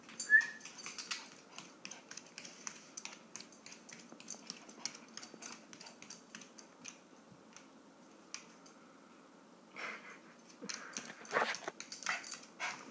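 A dog whimpers quietly indoors, with faint high squeaks near the start and scattered soft clicks and rustles throughout. No one speaks.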